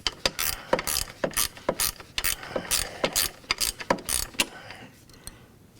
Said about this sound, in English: To do that, you'll need the 13mm socket or a wrench.